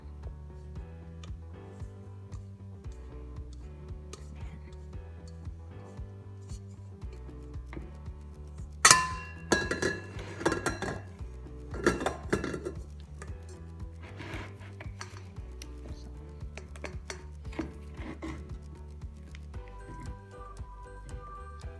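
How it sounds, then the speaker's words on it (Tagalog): A spatula scrapes sticky coconut bun dough out of a stand mixer's bowl, with soft scraping and a scatter of light clinks against the metal, including a sharper knock midway, all close and fairly quiet. "gamit ang spatula, tanggalin lang natin siya dyan sa mixer o bowl ng mixer"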